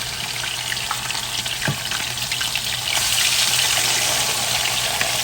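Pork chops fry in a pan over low heat with a dense, continuous sizzle and crackle close by, growing a little louder and brighter about halfway through.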